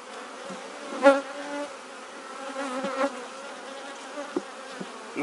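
Honeybee swarm buzzing during a hive transfer, heard as a steady, close droning hum with individual bees passing nearer now and then, no talk.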